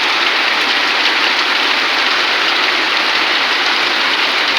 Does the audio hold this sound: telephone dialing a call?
no